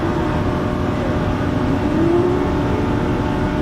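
An Audi car drives along a track, its steady engine drone holding throughout with a brief rising whine near the middle, fairly loud and continuous with no talk.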